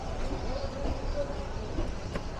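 A train pulls away from Ranaghat station in Nadia, heard from on board as a steady low rumble with faint rattling and clicks, moderately loud and unbroken, without any talk.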